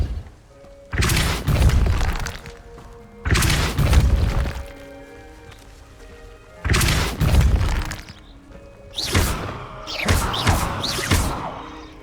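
The Depulso force spell fires in Hogwarts Legacy four times, each a forceful crashing thud with a shattering, debris-like burst, evenly spaced with quieter gaps between.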